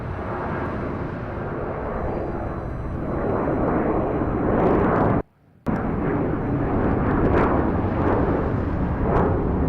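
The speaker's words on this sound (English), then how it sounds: "Another shallow takeoff." A jet airliner taking off at LAX roars loud and close, a broad continuous rumble that holds steady, cuts out briefly midway, then returns at full strength.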